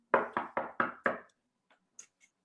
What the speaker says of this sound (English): So I'm gonna knock on the door.